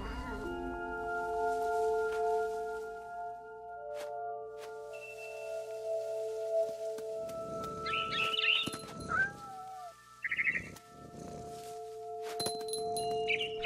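Cat in the game What Remains of Edith Finch, heard over a steady tonal ambient drone: soft meows and a short yowl, mixed with clinks, light rustling steps and brief bird-like chirps toward the end.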